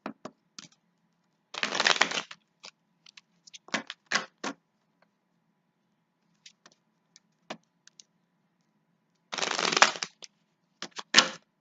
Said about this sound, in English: let me go ahead and shuffle these cards.